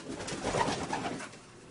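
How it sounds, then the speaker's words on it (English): A black Gansel Budapest pigeon hen about two years old coos softly and close, one short rolling coo heard alone. "This is a black Gansel Budapest hen"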